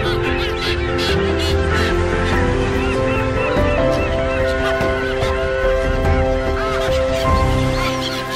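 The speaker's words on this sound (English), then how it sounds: "These amazing terns really are true birds of the sea." Seabirds at sea, terns, call continuously in a busy flock, harsh overlapping cries over a constant wash of wind and water, loud and close throughout.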